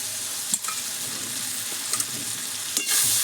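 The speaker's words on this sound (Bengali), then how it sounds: "দিয়ে পেঁয়াজ, রসুন সব মশলার সঙ্গে ভালো করে একটু কষিয়ে নেব।" Homemade tomato sauce with onion, garlic and spices sautés in a pan, a continuous close sizzle with occasional stirring clicks and a brief louder hiss near the end, no voices.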